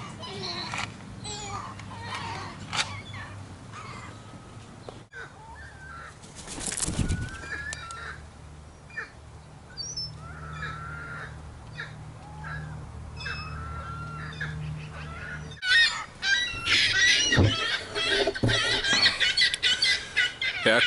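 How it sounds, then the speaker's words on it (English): Gulls and magpies call around a feeding tree outdoors, with repeated squawks and harsh cries scattered over a steady background, growing busier and louder near the end; no one speaks. "It's freaking out both the magpies and the gulls."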